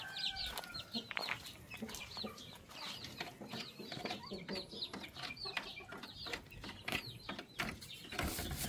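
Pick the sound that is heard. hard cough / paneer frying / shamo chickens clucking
shamo chickens clucking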